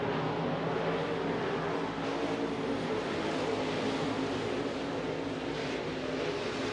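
A pack of stock cars roars around the dirt oval at Eagle Raceway, their engines a dense, continuous loud drone heard from trackside.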